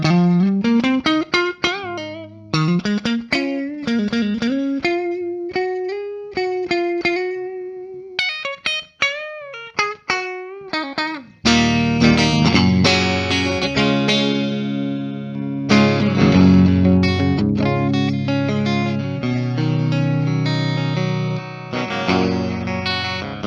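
A 1979 Gibson Heritage electric guitar plays through a Blues Breaker overdrive pedal, starting with slow bends and sustained single notes, then shifting to fuller driven chords with a warm, gritty tone that rings out loud and clear.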